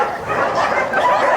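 Several dogs at a dog sanctuary in Lviv, a dense, steady mix of barks and yips carrying on throughout at moderate loudness, as if from a pack nearby.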